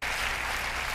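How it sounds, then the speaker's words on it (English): A church congregation claps steadily through a sermon, a dense wash of applause at a constant level with no pause from start to finish. "And people are just clapping for this."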